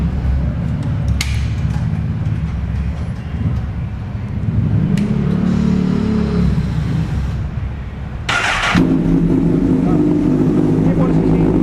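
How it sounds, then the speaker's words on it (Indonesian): A Honda CBR 1000 SP Red Bull motorcycle fitted with an SC Project exhaust, its engine still cold, runs with a loud, steady roar close by. The roar swells in the middle and sharp bursts break through near the start and again later. "Kita dengarkan sesama suara dari knalpot SC Project"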